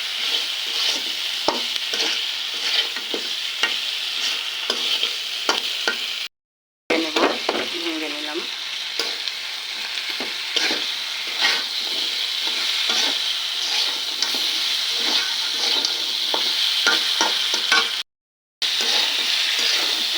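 A fish head frying with spices in a pan, continuous oily sizzling with repeated scraping and stirring strokes, close and loud, cut by two brief silent gaps.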